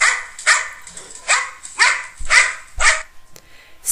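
A puppy yaps at the beach in a steady run of about seven sharp, high barks spaced roughly half a second apart, close and loud, with no voices.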